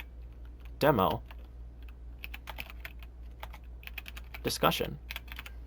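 Quick bursts of clicking keys on a computer keyboard while typing a discussion title on a website, close and crisp, with a voice speaking between the bursts.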